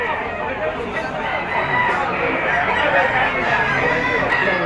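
A rooster crows loudly and close at a busy chicken auction market in Lipa, over constant crowd chatter and people talking nearby, the crow stretching through the clip amid other fowl clucking.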